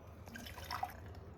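Water is tipped into the tank of a Shark steam mop, a faint, close trickle with a few small drips and plops.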